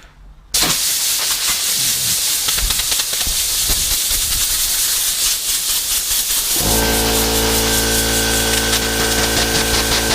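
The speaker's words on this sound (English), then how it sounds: "Okay, I'm going to blow the pad out again." Compressed air blasts loudly against a polishing pad while a 2017 Toyota RAV4 is detailed, a harsh continuous hiss starting abruptly, joined partway through by a steady humming tone.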